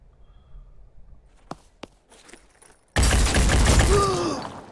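Gunfire in the turn-based tactics game Phoenix Point, a few faint clicks and shots in near silence, then a sudden loud burst of rapid gunshots that sustains and slowly fades.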